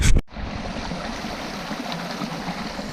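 Water rushes steadily at Arbuckle Cascades in Oklahoma, where two streams feed into a flowing creek, a continuous broadband wash heard close after a brief loud bump at the start, with no talk.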